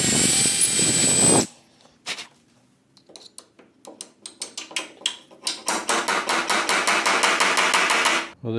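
A power drill bores through wood with a long bit in a western coach shop, starting with a loud continuous whine, then a pause and a run of short repeated bursts that build into sustained drilling.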